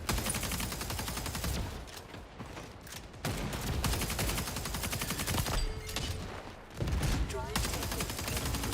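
Rapid bursts of automatic gunfire and shotgun blasts crackle in dense volleys in a shooter video game, pausing briefly between exchanges amid game effects.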